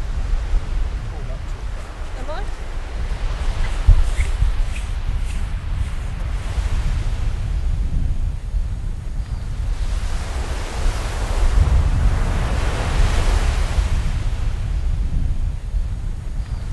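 Rushing surf and gusting wind on an open beach, a loud, continuous wash with swells that rise and fall and rumbling wind buffeting the microphone.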